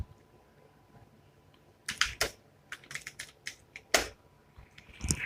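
Typing on a computer keyboard while entering text into Microsoft Word, heard as bursts of crisp key clicks in an irregular rhythm, close and fairly quiet, with no one speaking.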